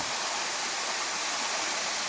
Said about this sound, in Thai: อันนี้ก็เป็น ความสวยงาม ของน้ำตกเจ้ากระดิน